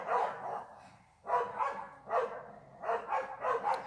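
Neighbours' dogs bark in repeated clusters of sharp, somewhat distant barks, several rapid volleys separated by short pauses.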